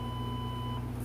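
An answering system beep from a VTech CS5121 cordless telephone: one steady, clean electronic tone lasting about a second, heard alone and fairly close.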